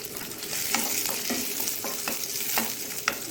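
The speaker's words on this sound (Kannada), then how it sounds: "ಕರಿಬೇವಿನ ಸೊಪ್ಪು ಸ್ವಲ್ಪ ಬಾಡುವಾಗ ಒಂದು ಬ್ಯಾಡಗಿ ಮೆಣಸನ್ನು ಒಂದು 2-3 ಕಟ್ ಮಾಡ್ಕೊಂಡು ಹಾಕೊಟ್ಟಿದ್ದೇನೆ" Curry leaves and cut Byadgi chili sizzle steadily in hot oil for a sambar tempering, with a few light stirring scrapes in the pan, close and without speech.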